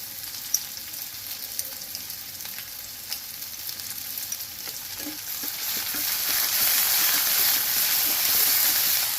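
Shallots frying with ginger garlic paste for a prawn gravy: a close, continuous sizzle with occasional stirring scrapes, swelling louder and brighter over the last few seconds.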